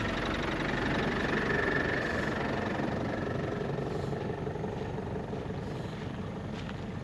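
A four-wheel drive vehicle idles in a rocky ditch, its engine a steady low rumble with a faint whine rising briefly, running alone at close range.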